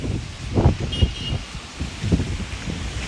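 Gusty wind during rain in Dehradun buffets the microphone in uneven bursts, with a steady rustling noise underneath and no clear voices.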